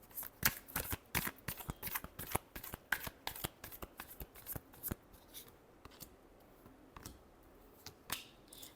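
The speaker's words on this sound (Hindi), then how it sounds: "Last shuffle." Tarot cards shuffled by hand in a rapid run of crisp riffling flutters and snaps, busy at first, then thinning into scattered flicks, close and quiet with no talking.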